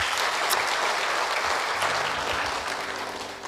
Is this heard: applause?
yes